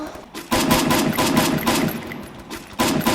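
Rapid bursts of automatic gunfire from a video game, loud and sustained with brief pauses between volleys.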